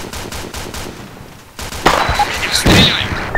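A frag grenade explodes in the military video game Arma 2 during a night co-op mission. Two loud, sharp blasts land close together after a rapid patter of distant machine-gun fire.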